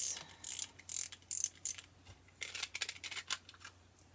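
Tape runner dispensing adhesive along a paper card while card making, giving bursts of rapid ratcheting, crackling mechanical clicks in several strokes, close and fairly loud over a low steady hum.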